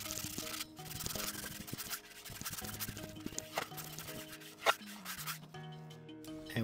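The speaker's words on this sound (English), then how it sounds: "I used a Scotch-Brite pad, connected it to my sander, and went at it" An electric sander fitted with a Scotch-Brite pad buffs a white oak surface, giving a close, scratchy rubbing sound in uneven passes with brief pauses and a sharp knock partway through.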